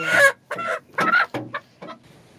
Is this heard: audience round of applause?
no